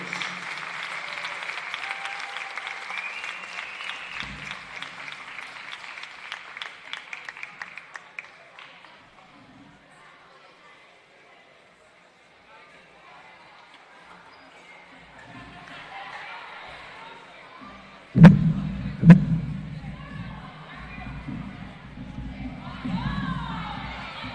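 A crowd at a college volleyball match applauds and cheers the team's seniors, clapping at first, then a quiet gap, then a sudden loud burst of cheers and shouts that stays lively.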